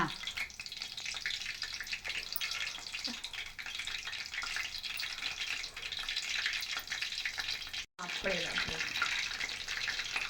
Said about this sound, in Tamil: இப்போ நல்லா நம்ம எண்ணெயில் போட்டுட்ருக்கோம்.